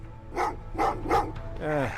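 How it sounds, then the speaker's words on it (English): Dogs in the video game Terminator Resistance bark in three sharp, evenly spaced woofs, then let out a drawn-out whining yelp, all fairly close and clear. "what's with the dogs?"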